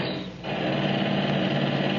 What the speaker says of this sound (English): This is the repair job in dry dock with the chipping hammers going and the cranes and derricks and the riveting